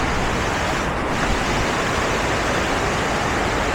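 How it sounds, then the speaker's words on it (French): A mountain stream beside a trekking path near the Sept Laux lakes, heard as a steady, loud broadband rush of flowing water with no breaks and no voices. "Ici on longe le ruisseau des 7 lots."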